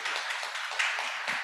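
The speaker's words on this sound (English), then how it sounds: "So please, huge round of applause for our panelists." Audience applause for panelists at a lecture series event, a short stretch of steady, even clapping from a crowd in a room, without speech.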